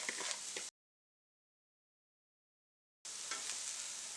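Shrimp fried rice with overnight brown rice sizzles steadily in a hot oiled pan while it is stirred and folded, a close, bright crackle that cuts out for a couple of seconds of silence before resuming at the same level.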